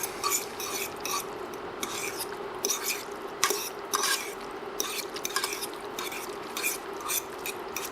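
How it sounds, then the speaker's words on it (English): A spoon stirs pasta and sauce in a pot, with repeated scraping and clinking strokes against the metal at close range, steady and rhythmic, with no voices. "Stir it around."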